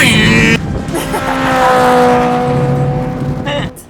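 A voice imitates a racing car, a rising and falling engine-like drone sustained for a few seconds, loud and close.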